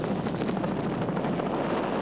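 A helicopter flies over Mount Panorama at the 1979 Bathurst touring car race, its steady rotor drone loud and continuous without any voices.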